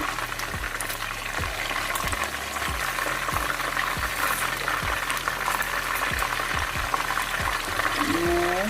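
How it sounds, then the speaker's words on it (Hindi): Fish fries in a pan of hot oil with a steady, loud sizzle and bubbling that lasts throughout, broken by regular soft knocks as pieces are turned one after another. "इस तरह सारी फिश को हम पलट देंगे।"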